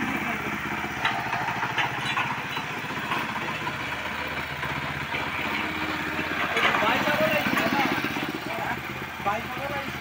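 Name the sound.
scooter engine idling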